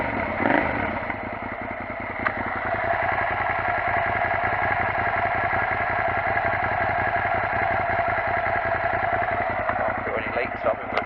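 A motorcycle fitted with a Delkevic racing exhaust, baffle removed, idles with a steady throbbing rumble and a slightly harsh edge. It sounds loud and close and holds an even beat throughout.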